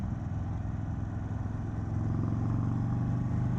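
Engine of a 2022 Indian Chief motorcycle, a steady low rumbling drone with a throbbing mechanical pulse that swells slightly louder midway, heard alone without speech.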